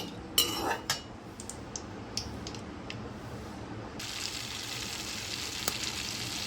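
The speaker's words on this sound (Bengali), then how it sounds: "এলাচ আর লবঙ্গ ফোড়ন দিয়ে দিলাম।" Cardamom and cloves dropped into hot oil in a pan, starting with a few utensil clinks and knocks, then a hiss that swells abruptly into a steady, even sizzle, close and fairly quiet, no talking.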